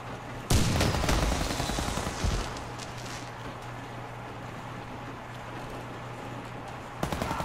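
Warface video game combat: a sharp grenade blast followed by bursts of gunfire, loud at the start and tailing off, with another burst near the end.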